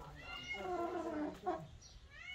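A cat in a snowy winter backyard with chickens gives one drawn-out, wavering meow, then a short rising cry, quiet and a little distant over faint background noise.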